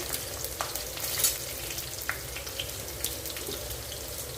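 Garlic and dried red chillies fry in oil for a coriander-garlic pickle, a continuous close sizzle with scattered sharp pops and crackles, no voices.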